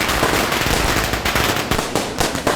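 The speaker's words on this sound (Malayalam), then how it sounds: "പടക്കൊക്കെ പൊട്ടുണ്ടല്ലോ" A loud, close string of firecrackers bursts in rapid, irregular pops and cracks that overlap into a continuous crackling barrage.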